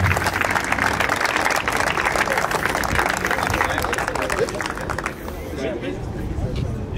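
Crowd applause at an outdoor car meet honouring a sound-pressure trophy winner with a Mazda RX-7, dense steady clapping mixed with crowd babble, thinning slightly toward the end.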